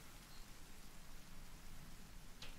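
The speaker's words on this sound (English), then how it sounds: "And it's raining." Steady rain in the survival video game The Forest, a dense continuous hiss of falling drops heard alone, fairly quiet and unbroken throughout.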